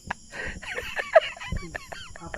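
A chicken clucks in agitated bursts after being chased, a string of short, uneven squawks close by with brief pauses between them.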